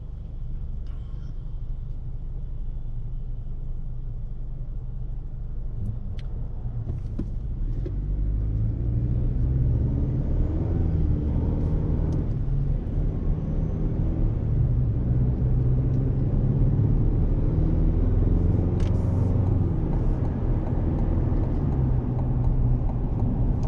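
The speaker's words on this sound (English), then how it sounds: "get up here on the highway. We'll see how it does road noise wise." Road noise inside a 2024 GMC Canyon Elevation pickup cruising on a highway, a steady low rumble and tire drone that holds constant throughout.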